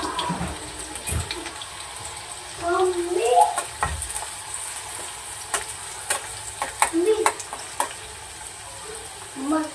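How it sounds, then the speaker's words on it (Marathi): Onion fries in hot oil with a continuous sizzle and frequent stirring scrapes against the pan, close by, with short bursts of louder bubbling and a faint voice in the background. "कांदा छान तेलामध्ये फ्राय करून घ्यायचा आहे"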